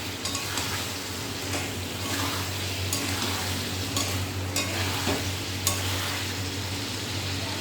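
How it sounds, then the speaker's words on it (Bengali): Boiled taro (kochu) being sautéed with spices, a constant close sizzle broken by repeated scraping and clicking strokes of a spatula against the pan. "এবারে মশলার সাথে কষিয়ে নেব।"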